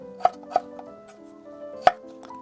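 Potatoes are chopped into bite-size pieces for a potato and egg soup. A few sharp, irregular knife strikes hit the board, two close together and one later, with softer taps between over faint tonal background music.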